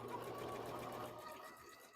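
A Bernina sewing machine runs a triple zigzag stitch, a quiet, steady mechanical whir with rapid needle chatter, heard close and alone for a couple of seconds before easing slightly.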